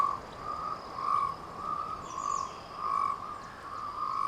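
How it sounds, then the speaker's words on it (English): Cape rain frogs, endemic to the southern Cape of South Africa, call on a wet night, giving a steady series of evenly spaced, moderately loud pulsing croaks with faint insect and bird sounds behind. "Cape rain frogs are calling"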